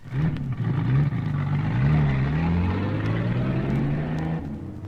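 A car engine hums loudly and steadily as the car pulls away in a radio drama scene, its pitch wavering upward before the sound cuts off abruptly.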